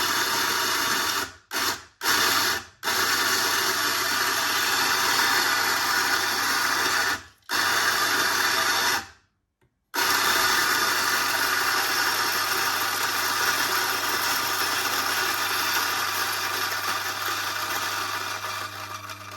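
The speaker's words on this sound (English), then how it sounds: "We turn our grinder on and we start the grinding." A Eureka Mignon coffee grinder grinds espresso beans in a loud, steady whir, starting and stopping in a few quick bursts before one long continuous run, heard up close with no speech.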